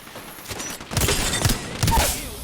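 Gunfire in a video game fires in bursts of sharp shots, close and loud, with a few separated volleys over a couple of seconds.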